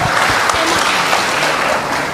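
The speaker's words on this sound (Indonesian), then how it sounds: "Ini hebat, tepuk tangan" An audience breaks into brisk, close applause, a dense, even clatter of many hands lasting a couple of seconds with a voice faintly underneath.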